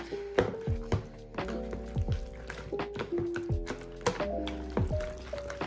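Six eggs being whisked into mascarpone in a bowl, giving wet squelching, irregular tapping and scraping strokes at close range, with no speech.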